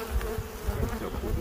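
Bees at an Arizona beehive, one stirred up and roused, give a dense, continuous buzz close by, with low rumbling pulses of wingbeats rising and falling throughout; no voices.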